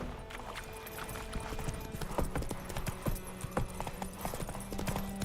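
Geralt's horse Roach trots in The Witcher 3, its hooves clopping in a close, steady rhythm against a busy game ambience with no one talking.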